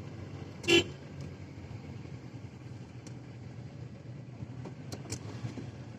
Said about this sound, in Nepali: यो हर्न चाहिँ किन दिनु परेको